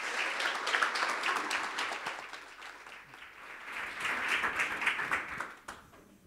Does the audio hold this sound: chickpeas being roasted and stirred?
no